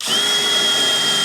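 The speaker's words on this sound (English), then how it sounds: "now we know where we have to drill to get the rivets in" Power drill boring through the aluminium rear panel of a Land Rover Series 3 tub, a loud, close, steady high-pitched whine held without pause for just over a second.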